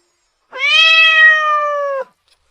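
A single drawn-out cat meow, loud and close, lasting about a second and a half, steady and tonal, alone with silence before and after.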